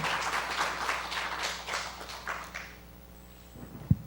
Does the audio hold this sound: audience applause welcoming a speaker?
yes